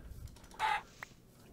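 A single short chicken cluck from a Minecraft video game, faint and isolated against quiet background noise.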